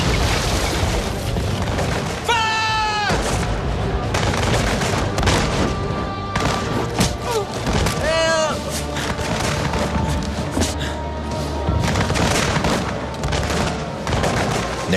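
Musket volleys roar in a naval battle at Trafalgar, with dense, continuous crackling gunfire and heavy booms filling the scene, plus occasional rising whistles, loud throughout.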